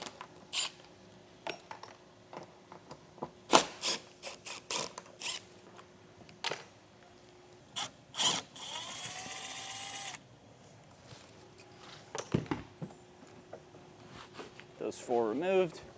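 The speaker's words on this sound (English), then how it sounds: "it's 4 screws to remove the whole thing, so I'm just going to get these top 2 out and then the 2 in the back" Screws come out of a Coleman-Mach Signature Mach 15 RV air conditioner cover on a 2017 Winnebago Minnie, with a whirring power driver burst, ratcheting clicks and metallic taps, all close by.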